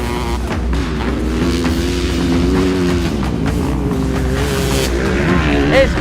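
Honda CR500 two-stroke dirt bike racing at a national championship, its engine rising and falling loud and steady among other race bikes, with a brief squeal near the end.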